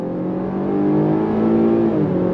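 A 2022 Chevrolet Blazer SUV with a V6 engine accelerating on throttle, a close, loud engine hum rising steadily in pitch and volume over a couple of seconds, with no talking.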